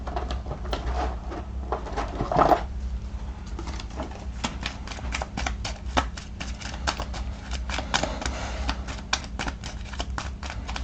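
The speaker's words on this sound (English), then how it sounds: "Let's give this disorder deck a quick shuffle." Cards from a disorder deck for the Kingdom Death: Monster board game are shuffled in a steady run of quick, crisp riffling clicks over a low background hum, with no talking.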